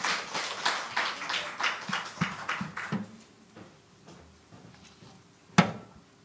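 A church audience at a Korean parents' seminar gives a short round of clapping that fades out over a few seconds, followed by quiet room noise, faint shuffling and a single sharp knock.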